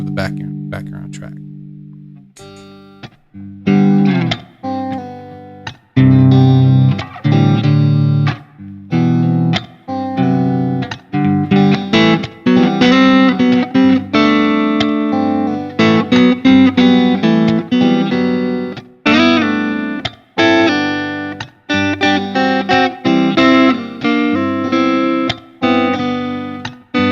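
A guitar plays double stops in fourths over a backing track, with processed, slightly distorted tone and steady strummed and picked rhythm, loud and close for nearly half a minute.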